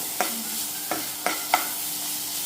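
Ingredients for sambar roast in a pan, a moderate steady sizzle. Four sharp scraping stirs or taps land at irregular intervals, and nobody talks.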